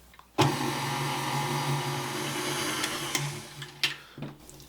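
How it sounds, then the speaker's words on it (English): An electric mixer whirs while blending baking soda, salt and other dry ingredients for an ice cream cake, a steady motor hum starting abruptly, holding for a few seconds, then cutting off with a few light clunks. "we're just going to mix these together until it's combined"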